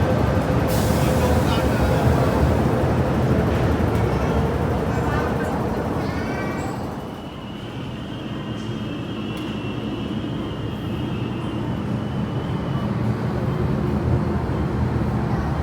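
A Hong Kong MTR train at Mei Foo Station, a loud steady rumble in the first seconds that eases after about seven seconds into a quieter, more distant hum, with a faint squeal and a person talking over it.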